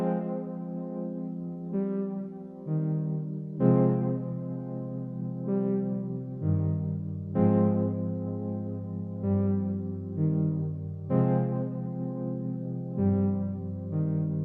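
Simple sustained synth chords in a music production sample, looping the same progression with long held, warm tones that change every couple of seconds, steady and full with no voices.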